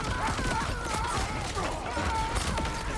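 Dense, loud game combat in Borderlands 4 as sticky grenades detonate against a boss: a continuous barrage of booming blasts and crackling impacts layered over music and effects, with no clear gaps for the full length.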